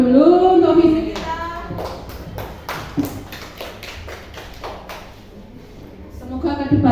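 A small group of teachers claps hands in a short burst of distinct, fairly close claps, with voices talking briefly before and after.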